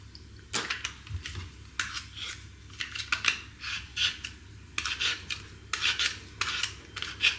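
A handheld peeler scrapes raw potatoes in a home kitchen, each stroke a short rasping swipe repeated in an uneven rhythm, close and clear with no talk.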